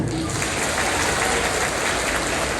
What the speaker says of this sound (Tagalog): Alice, kay Ma'am Mira, and kay Ma'am Reggie, palakpakan nyo sila.